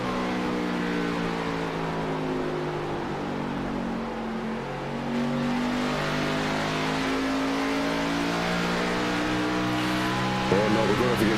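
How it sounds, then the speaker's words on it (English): A NASCAR stock car engine in a sim racing game rises in pitch as it accelerates out of a corner, a sustained harmonic whine climbing steadily. A commentator's voice runs underneath, and there is a brief tire squeal near the end. "You can hear the crescendo of the engine on the corner exit."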